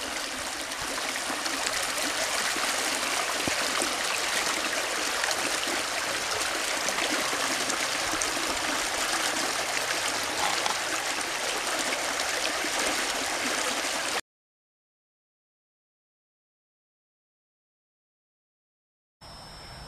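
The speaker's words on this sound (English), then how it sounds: "the river's barely flowing underneath the bottom of this wooden bridge" A river flows steadily beneath a wooden bridge in Deming, Washington, during flooding on the Sumas branch, a continuous close rushing of water that cuts out abruptly near the end before returning briefly.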